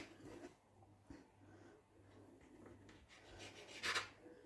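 A knife slices the crusts off sandwich bread, giving faint soft rasping strokes over a low steady hum, with a brief brighter scrape near the end.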